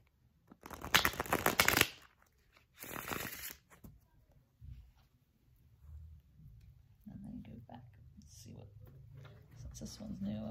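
Two short bursts of tarot cards being shuffled, close and crisp, followed by quieter rustling and soft handling noises.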